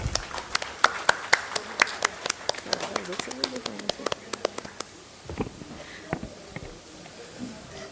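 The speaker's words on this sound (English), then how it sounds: "Please welcome, with a resounding round of applause, Pramod G." Scattered hands clap for a panel speaker at a finance networking event, a fairly sparse round of separate sharp claps that fades out after about five seconds, leaving a few faint taps and room noise.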